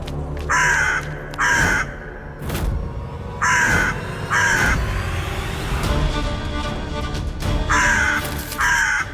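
Crows caw loudly and close by in repeated harsh bursts, with six or more calls spread across the stretch over a low rumbling background.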